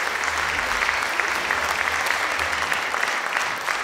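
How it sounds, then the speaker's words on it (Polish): Sustained, dense applause from a concert audience for a village orchestra (Stara Wieś) at a jubilee concert of a majorette academy, steady and loud throughout with no talking. "wielkie, wielkie, ogromne brawa jeszcze raz dla orkiestry Stara Wieś"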